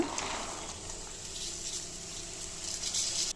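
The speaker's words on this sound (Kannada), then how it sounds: "ಈಗ ಬಟಾಣಿ ಹಾಕ್ಕೊಂಡು ಫ್ರೈ ಮಾಡ್ಕೋಬೇಕು" Peas sizzling and frying in hot oil with garam masala in a pan for cauliflower masala gravy, a steady close crackling hiss throughout with no talk.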